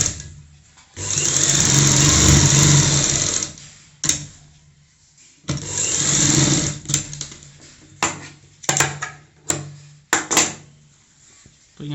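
Electric sewing machine stitching pleats on a little girl's frock, running in two sustained whirring bursts followed by several short stop-start spurts with faint mechanical clicks between.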